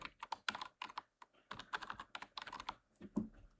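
Quick, uneven keystrokes on a computer keyboard while naming a desktop shortcut, close and fairly soft, in short bursts with brief pauses.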